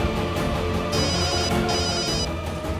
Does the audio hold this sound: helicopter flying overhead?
no